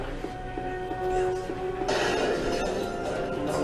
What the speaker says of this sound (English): I love the glass shattering in this one